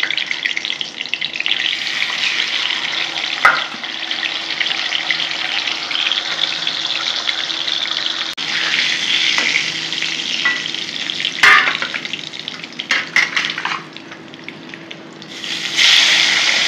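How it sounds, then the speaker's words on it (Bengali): Fish pieces frying in a pan of hot oil give a steady, loud sizzle that runs on without a break, with occasional clinks and a short drop in intensity near the end. "এরকম করে আমি সব মাছগুলো ভেজে নেব বন্ধুরা।"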